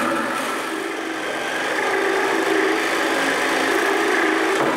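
Deer antlers being sawn off the skull cap just below the burr, a steady, close, continuous rasping grind that runs throughout without pause.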